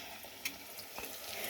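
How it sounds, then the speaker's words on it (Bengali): Bread pakoras frying in a kadai of hot oil, a soft continuous sizzle with a few brief clinks and scrapes as the pieces are gently turned over. "এবার আমি এইভাবে আস্তে আস্তে উল্টে দেব।"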